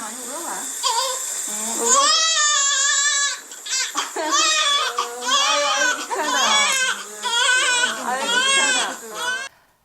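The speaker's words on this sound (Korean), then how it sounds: "엄마와 아기의 새로운 동행은 아기의 건강한 울음소리로 시작됩니다." A newborn baby cries just after birth in a delivery room, loud, close wailing in repeated long bursts with brief gasping breaks, continuing for several seconds before fading.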